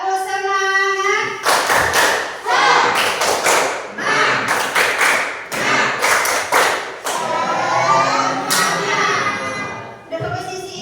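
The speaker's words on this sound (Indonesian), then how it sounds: "ayo tepuk semangat lagi yuk" Schoolchildren in a classroom beat out a rhythmic spirit clap, with loud bursts of clapping and thumping in patterned groups that pause between phrases, plus some children's voices mixed in.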